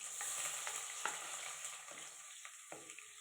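Chopped onions fry in hot oil in a pan for pumpkin pulao, making a close, continuous sizzle with scattered crackles and a few soft stirring scrapes, and no one speaking.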